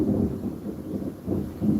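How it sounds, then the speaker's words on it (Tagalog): Thunder rumbles low and heavy through a storm in Bicol, rolling in slow swells under a wash of rain. "Kumukulog pa dito."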